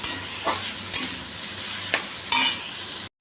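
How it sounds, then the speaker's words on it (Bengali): Fish frying in oil in a pan, a constant close sizzle broken by a few sharp scrapes and taps of a spatula, with no talking. "তো মাছটা ভাজা বসিয়ে দিয়েছি"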